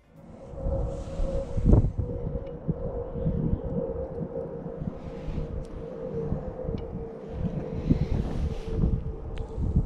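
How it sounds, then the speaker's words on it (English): Low, blustery wind rumbles against the microphone outdoors while fishing for catfish, steady with gusty swells, and a faint tonal hum running underneath. "It's windy, so hopefully the audio is not bad."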